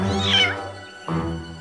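A cartoon cat gives a clear, close meow, a drawn-out cry that dips, pauses briefly and then rises again in a second shorter call.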